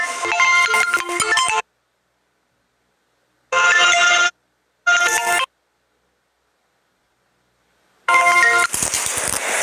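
A telephone ringtone for an incoming call plays loud and tonal in three bursts broken by silent gaps, then starts again near the end, with no talk over it.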